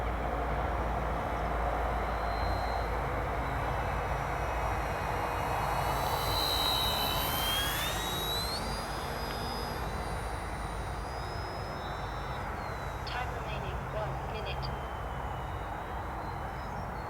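A small plane lands after a practice approach, heard from inside the cockpit as a loud, steady engine drone and broadband wind roar that continues unbroken for the whole stretch, with faint tonal whines rising and falling above it.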